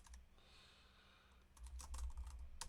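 Soft, quiet clicking of a computer keyboard being typed on, with a brief pause and then a denser burst of keystrokes close by.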